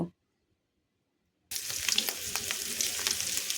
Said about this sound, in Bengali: চিংড়ি মাছটাকে ভালো করে লবণ এবং হলুদ দিয়ে ভেজে নেব